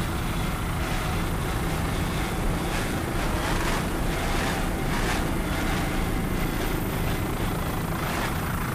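A 30-foot AMT Superstock offshore racing powerboat roars through the throttle during the Miami Offshore Grand Prix final heat, a loud, continuous engine drone with rhythmic surges of wind and water noise.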